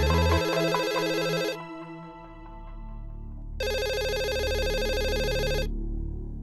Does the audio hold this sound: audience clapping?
no